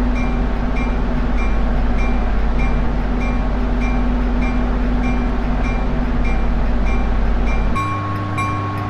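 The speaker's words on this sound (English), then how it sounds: "GG-1 run-up is excellent. It's smooth and it's very gentle, but it gets stronger the faster you go." GG-1 electric locomotive running up, heard from outside as a steady, loud electric drone with a low hum and a rhythmic clicking from the rails that grows stronger, then shifts pitch near the end.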